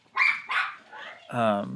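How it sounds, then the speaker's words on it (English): Dog barking twice in short bursts, then a longer whining or voiced bark, fairly close and loud in a quiet room. "It's my dog barking in the background."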